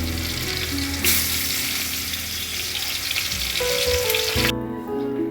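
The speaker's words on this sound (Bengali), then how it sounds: "এবার ডালের বড়িটা ভেজে নেব।" Dried lentil dumplings (bori) fry in hot oil with a loud, steady, close sizzle that crackles continuously throughout, with no talking.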